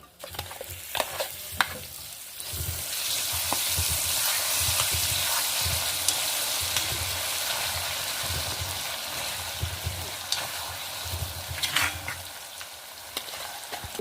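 Mustard seeds and fenugreek sizzle and crackle in hot oil as tempering for a colocasia leaf chutney, a steady close frying hiss with scattered pops and stirring scrapes throughout, no talking.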